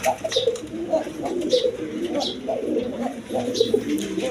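A crowd of pigeons of various breeds, including a pair of racing pigeons, coo steadily and overlap in a continuous low warble, with repeated soft bursts from nearby birds throughout.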